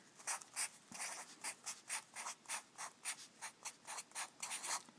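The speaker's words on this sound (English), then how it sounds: "So now I'm going to write that underneath here." Pen or pencil writing algebra work for a math problem on area of a shaded region, steady rhythmic scratching strokes repeating roughly every quarter second, close and quiet, with no talk.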